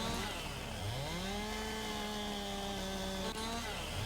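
Loud, close chainsaw from Farming Simulator 19 bucking logs, the engine climbing from a dip into a sustained high whine before briefly dropping near the end.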